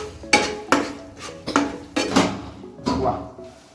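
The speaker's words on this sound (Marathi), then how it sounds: "आता मी इथे हलवायचं काम चालू आहे माझं" Rice is stirred in a cooking pot in a home kitchen, giving six or seven distinct scraping clanks of a utensil against the pot at an irregular, unhurried rhythm, close and fairly loud, with no talk.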